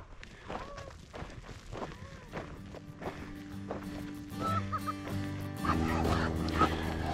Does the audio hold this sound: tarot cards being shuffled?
no